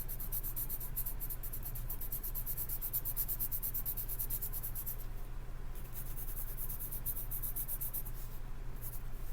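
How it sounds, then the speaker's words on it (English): Graphite pencil pressed firmly on its side, shading paper for a drawing value scale: a steady, close, continuous scratchy rubbing that carries on without pause. "press firmly on the side of your pencil"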